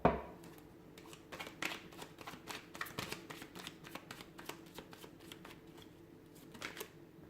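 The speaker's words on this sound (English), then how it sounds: "give the cards a shuffle" A deck of tarot cards is riffled and shuffled close up, a soft continuous run of papery flicks and taps after an opening thump, with no talking.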